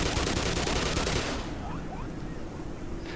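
Rapid automatic gunfire in the video game Black Mesa, a loud dense burst of shots that stops partway through, leaving a quieter ringing tail with faint game sounds.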